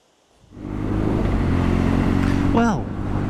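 BMW GS motorcycle fitted with bar end mirrors and a new riding position, heard as a steady, loud engine drone with wind rush while riding, and a brief rising whine near the end.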